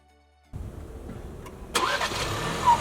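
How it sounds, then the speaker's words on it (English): A 2024 Ford Bronco Everglades edition sets off on the road: after a moment of near silence, a steady mid-pitched engine comes in. Its note rises and broadens partway through as the vehicle accelerates, and it stays fairly close throughout with no talk. "Time to do some on-road driving in the Bronco Everglades."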